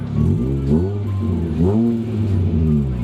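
A modified Honda Jazz engine is revved twice from idle, each blip rising and falling in pitch over a steady close rumble, with no talk.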